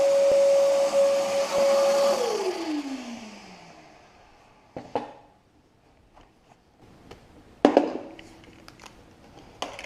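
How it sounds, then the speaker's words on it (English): Vacuum cleaner in a camper build on a Subaru, running loud with a steady whine that winds down as it shuts off, followed by scattered knocks, clicks and handling noises. "Safety goggles, plug it in, turn on the vacuum."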